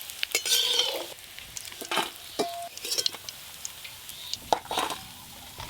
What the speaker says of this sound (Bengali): এই দেখুন মাছগুলো কি সুন্দর ভাজা হয়ে গেল